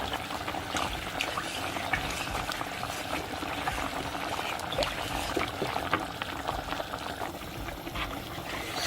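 A pot of cornmeal coucou being stirred while it cooks, giving a steady bubbling, scraping and sloshing texture that runs without a break, moderately loud and close, with no talking.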